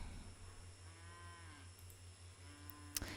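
A large cow moos in the video game Curious Expedition 2, a long, drawn-out low call over a steady background hum, with a short sharp click near the end.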